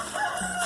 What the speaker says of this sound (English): see what all the crowing is about in there